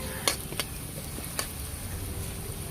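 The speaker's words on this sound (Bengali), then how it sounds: "পেঁয়াজটা লাল লাল করে ভাজা হোক" Onions frying in a pan, a quiet steady sizzle with a few sharp clicks of a utensil against the pan.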